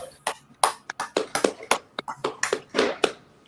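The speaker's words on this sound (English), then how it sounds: "All right, clap it up." A small group at a brotherhood class claps close by in irregular, scattered bursts, individual sharp hand claps overlapping rather than falling into one even rhythm.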